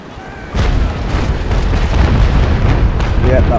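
Cannon fire from sailing warships in the naval battle game Naval Action: after a brief quieter moment, a loud, dense, continuous rumbling barrage of booms fills the rest of the clip.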